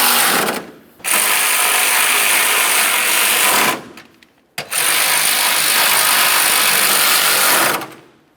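A ratchet tightens the bolts on the radiator cooling fan of a 2004-2006 Scion xB, making two long, loud bursts of fast, steady clicking close up, with a short pause between them.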